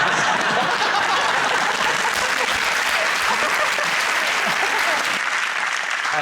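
Audience applause filling the whole stretch, dense steady clapping with a few chuckles and murmurs mixed in, loud and even until it thins slightly near the end.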